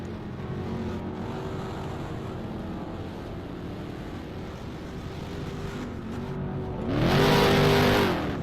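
A twin turbo V6 race car engine in an ROX Mods feature at East Albany hums steadily at a distance, then swells into a loud close rev near the end.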